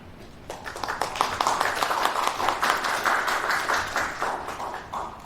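An audience in a debate hall claps to welcome a speaker, with brisk, dense applause starting abruptly, holding steady and gradually thinning toward the end.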